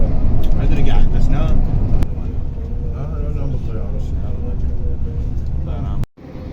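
A Le Meridien Towers hotel shuttle bus drives through a bus-only tunnel in Makkah, its loud rumbling drone echoing continuously with voices heard over it, and the sound cuts out briefly near the end.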